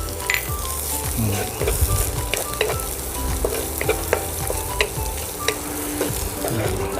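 Pork belly sizzles loudly as it is stir-fried in a pan with raw salted egg and onion, a steady crackling fry broken by scraping, clinking stirs of the spatula.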